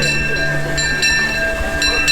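The Disneyland Railroad train rumbles steadily, with sustained tonal humming and a few brief knocks over a constant, loud mechanical drone.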